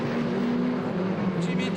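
Rallycross race cars, a Honda Civic chasing two Peugeots, roar with a steady engine drone at a distance, partly under commentary.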